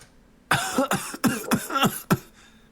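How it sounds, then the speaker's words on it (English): A person coughs five times in quick succession, loud and close, with short rough bursts spaced about a third of a second apart and a brief silence before and after. "Do you have a cough too?"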